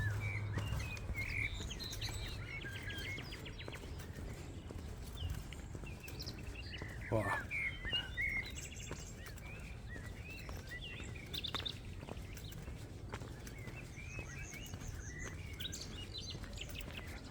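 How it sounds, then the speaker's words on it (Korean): Many birds chirp and tweet throughout in a forest, scattered calls near and far over a soft outdoor background hum. "새소리가 많이 들리니까 진짜 숲에 와 있는 것 같아요."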